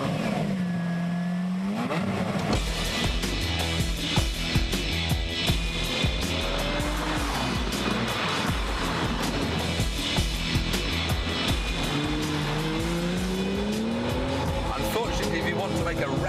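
A Lamborghini Murcielago V12 starts with a loud whine and catches, then revs hard in repeated rising and falling sweeps, close and dense throughout with busy mechanical texture.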